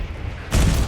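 A frag grenade explodes in Call of Duty: Black Ops 6 multiplayer, a loud sudden blast halfway through that fills the clip with a rumbling roar, following a quieter stretch of game ambience.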